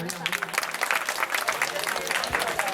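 Live audience applause at a Chhattisgarhi comedy performance, a dense, steady wash of clapping that holds at an even level from start to finish and carries no clear speech.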